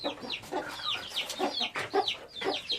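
A chicken clucks steadily in a coop, a run of close, repeated calls rising and falling over about three seconds, with no voices.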